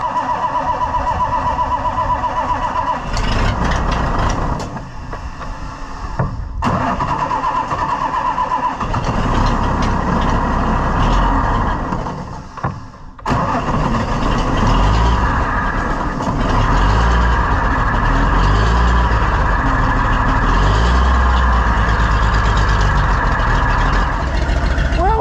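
An old farm vehicle's engine cranks and turns over in the snow and cold, stuttering through a few starting attempts before settling into a loud, rough running rumble.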